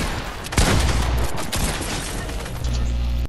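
Dense, sustained gunfire from a Fortnite match, with heavy overlapping shots and a sharp louder burst just after the start, holding at a steady, loud level throughout.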